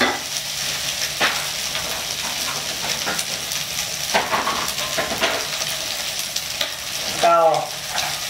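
Rice noodles stir-fried over high heat in a pan, a loud continuous sizzle with scraping stirs of the spatula and a brief metallic clink near the end, no speech.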